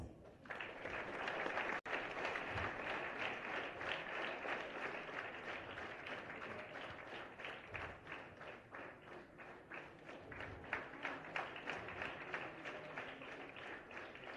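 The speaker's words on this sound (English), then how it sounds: "Thiru Anbuvanan, we can have claps" Prolonged audience applause at a school tribal pride day ceremony where a governor honours a student, dense steady clapping from a large crowd in a hall, continuous and even for the whole stretch with a single sharp knock early on.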